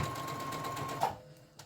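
A Brother CS3000i computerized sewing machine stitches over a thick doily with a fast, steady mechanical whir that stops abruptly partway through, followed by a faint click.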